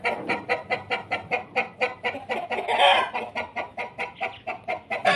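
A black Aseel rooster clucks over and over in a quick, regular rhythm, close by, with one louder squawking burst midway through.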